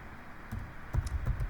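A computer keyboard gives a brief run of soft, scattered keystroke clicks, faint and close, with no speech.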